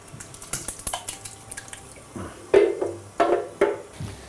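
Tomatoes are stirred into a root vegetable bolognese with rosemary, bay and sage, a spoon knocking and scraping the pot in quick clinks and then a few heavier wet sloshing strokes, close and clear.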